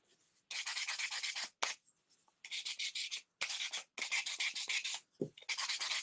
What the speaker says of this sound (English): I like to sand it.